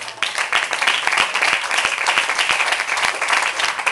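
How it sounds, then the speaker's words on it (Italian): A concert crowd at a live music venue, Hangar22 in Retorbido, Italy, breaks into loud, dense applause that stays full and steady throughout, with no speech heard over it. "In realtà facciamo un applauso a Stefano."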